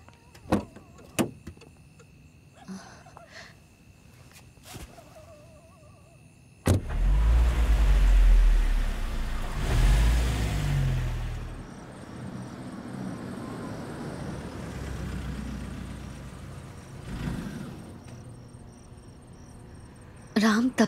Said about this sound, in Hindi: आप गाड़ी हटा दीजिए ताकि मैं ताला लगा सकूं।